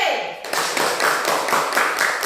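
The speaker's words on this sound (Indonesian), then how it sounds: "Tepuk tangan untuk kelompok C" Classmates clap for a student group in a classroom, a brief burst of hand claps over a murmur of voices, fairly close and moderately loud.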